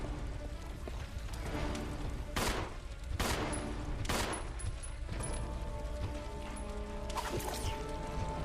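Gunfire in the video game Resident Evil 0 HD Remaster during a hard-mode boss fight, with sharp repeated shots over a dense, loud game soundscape and no talking.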